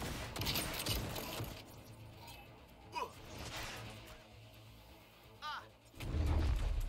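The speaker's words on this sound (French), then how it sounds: "Qui me tire dessus là?" Gunfire in Cyberpunk 2077 crackles in bursts amid a busy combat mix, with a sharp impact around three seconds, another shot later and a heavy rumbling burst at the end, while a voice speaks intermittently.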